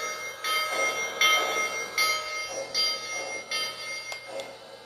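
A model train's small bell dings repeatedly in a steady rhythm, about once every three-quarters of a second, ringing clearly over a faint electrical hum.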